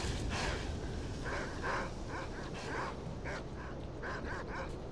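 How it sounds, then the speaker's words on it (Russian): Dogs barking, yipping and snarling in a fight in the S.T.A.L.K.E.R. video game, a rapid run of overlapping barks over a constant background rumble, moderately loud. "Вечная грызня собак на этой локации"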